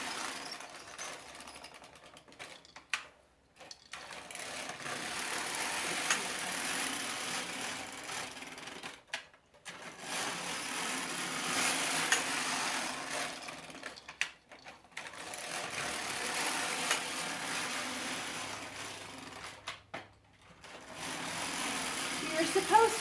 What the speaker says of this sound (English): You're supposed to knit with both hands on the carriage and stay centered in front of the machine.